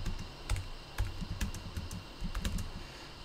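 Someone types Java code on a computer keyboard, producing a close, steady patter of quick key clicks with a few heavier taps mixed into an irregular rhythm.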